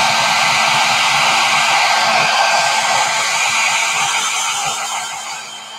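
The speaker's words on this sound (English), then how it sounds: "I'm gonna blow dry that super fast so I don't put my hand in black paint." A hair dryer blows steadily at close range over wet black paint on a wooden barn door hanger, a constant airy whoosh with a faint motor whine that eases slightly at the end.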